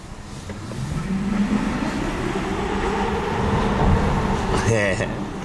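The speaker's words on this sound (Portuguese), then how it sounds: "É o barulho dos pneus." Tire noise from a hybrid car while driving, a steady broad road rumble and hiss that swells slightly, with a faint whistle; people talk over it.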